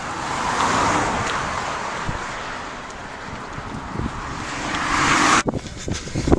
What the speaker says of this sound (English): Beautiful view out here though today, but it is supremely windy.